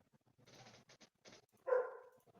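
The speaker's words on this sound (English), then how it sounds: "Why is the dog barking?" A dog barks once near a race stadium during a pre-race cookout, a single sharp bark after a stretch of faint scattered chatter and noise.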